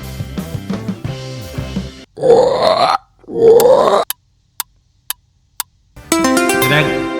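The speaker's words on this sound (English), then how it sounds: "the toad cracks to attract a mate" A toad gives two deep, rasping croaks, each about a second long and loud, set between stretches of music and a few sharp clicks.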